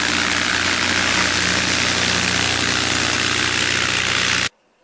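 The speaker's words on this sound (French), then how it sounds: "Cela a permis à quelques avions de décoller" Propeller aircraft engines run steadily at an air show aerodrome under rainy skies, a loud, continuous droning roar with a low rumbling undertone that cuts off abruptly near the end.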